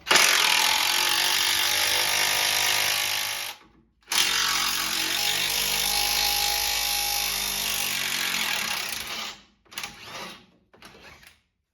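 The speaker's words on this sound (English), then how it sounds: "it will be easier to get your ratchet on those lower alternator bolts" A hand ratchet works on the 17mm lower alternator bolts of a 2007-2021 Toyota Tundra, giving a close, continuous rapid clicking in long runs broken by brief pauses and a few short final bursts.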